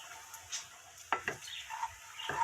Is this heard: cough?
no